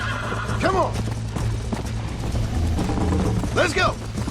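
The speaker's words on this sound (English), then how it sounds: "You're gonna wear that horse out!" Horses gallop and neigh in the Red Dead Redemption video game, with two loud whinnies over rapid hoofbeats and rumbling movement, and a voice speaking in between.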